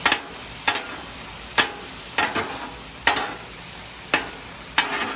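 Prawns stir-fry with soy sauce in a hot pan for Hibachi fried rice, a loud continuous sizzle punctuated by about eight sharp spatula scrapes at uneven intervals, no talking.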